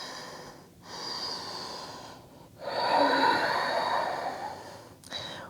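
Slow, steady yoga breathing held in downward dog during an inner-thigh stretching class: long, airy inhales and exhales close by, with a brief pause between breaths and a short sharp exhale near the end.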